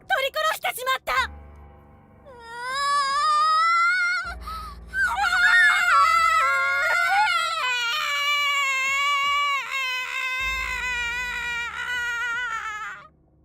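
Drawn-out wailing, cat-like screams from the Corpse Party horror video game, rising and falling in long tonal cries that nearly fill the stretch after a brief opening burst, loud and alone with no talk over them.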